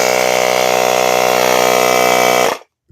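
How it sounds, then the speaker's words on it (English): A portable air tire compressor runs loud and close with a steady, buzzing mechanical drone, then cuts off abruptly after about two and a half seconds, leaving silence. "Ooh, that's loud. Well, that's to fill the air back in your tire"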